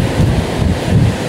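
Strong wind on a mountain top in St Lucia buffets the microphone in a steady, loud rumbling roar with no other sounds.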